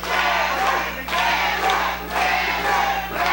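A wrestling crowd in an indoor arena cheers and shouts in loud, swelling waves, about one surge per second, over a steady low hum.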